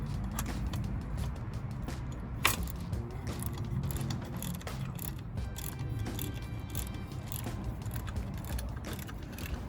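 Metal nut and washer being fitted and snugged onto a Maund Speed Equipment fender eliminator bracket on a Triumph Street Scrambler motorcycle, with small clicks and ratcheting over a steady background noise, close by.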